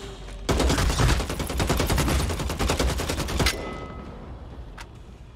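Rapid automatic gunfire in the video game Bloodhunt, a loud sustained burst of evenly spaced shots lasting about three seconds, then a quieter tail with one faint distant crack.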